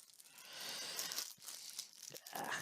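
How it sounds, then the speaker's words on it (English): Crinkly plastic packet for a JBC soldering station sponge being torn and pulled open by hand, a few seconds of continuous close crackling and ripping with short pauses. "We'll open that packet while we're here"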